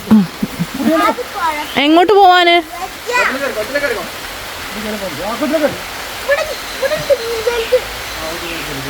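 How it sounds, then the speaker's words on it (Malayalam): Heavy rain falls in a steady, hissing wash beneath nearly continuous close talking by several voices, with the rain filling the gaps between speech. "മഴ പെയ്തു നല്ല മഴ കേട്ടോ"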